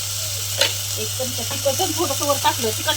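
Chicken masala frying in oil as chili powder goes in, giving a steady sizzle with scattered stirring clinks and scrapes of a spoon in the pan, close and continuous under a constant low hum, with no talk.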